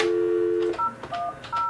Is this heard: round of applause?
no